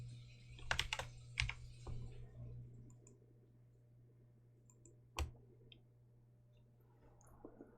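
Fingers typing on a computer keyboard, faint and close, with short clustered bursts of clicks followed by scattered single taps over a steady low electrical hum.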